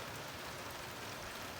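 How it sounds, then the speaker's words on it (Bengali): Steady rain falls outdoors in a cool spring spell, a soft, even hiss of drops with no breaks and no other sounds. "বৃষ্টি হইতেছে"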